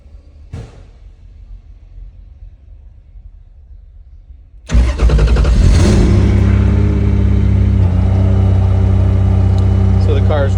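A Carbon RXC twin-turbo car sits quiet before its engine cranks and fires, jumping to a loud, steady running rumble that continues close by for the rest of the stretch.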